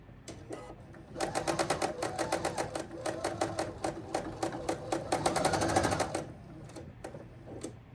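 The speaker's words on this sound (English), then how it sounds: "I'm going to go in and I'm going to take a little bit wider of a seam right there." A sewing machine stitches a slightly wider seam through quilt pieces, running in a steady rapid burst of stitches from about one second to six seconds, with quieter handling before and after and no talk.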